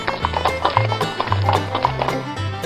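Steady clip-clop of a horse's hooves, close and loud, in an even trotting rhythm with a faint whinny mixed in.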